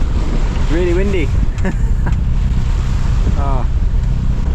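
Strong wind roars across a sailboat beating upwind under a struggling engine at about three knots, a steady close wind rush that fills the whole clip, with brief voices heard beneath it.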